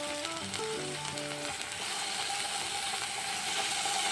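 Paneer roasts in ghee in a kadai with a loud, steady sizzle close up. Faint background music fades out early on.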